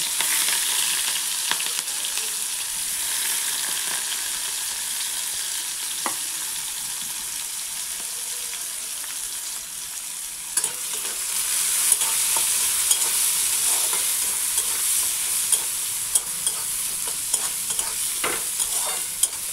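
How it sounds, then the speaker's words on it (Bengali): Steady sizzle of capsicum, onion, green chili and tomato frying in oil, with intermittent stirring scrapes and clicks from a pan, continuous and fairly close, no voices. "আর এই যে ক্যাপসিকাম, পেঁয়াজ, কাঁচা লঙ্কা, টমেটো সব যা দিয়েছি সব এগুলো একটু ভেজে নেব"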